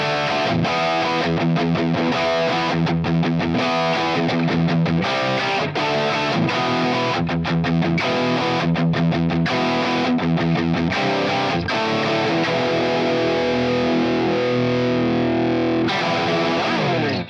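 An electric guitar with humbucker pickups plays heavily distorted chords and riffs, loud and continuous for about seventeen seconds, with dense sustained crunch and rhythmic chugging passages and no voices.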